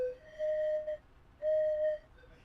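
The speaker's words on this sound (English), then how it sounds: "Okay, where's my train whistle?" A toy train whistle is blown twice. Each blast is a clear, steady high tone lasting about half a second, with a short pause between the two.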